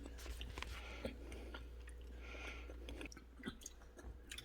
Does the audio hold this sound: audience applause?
no